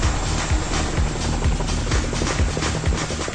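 A US Army Chinook twin-rotor helicopter thumps with a steady, rapid rotor beat over a loud roaring turbine wash, close and powerful.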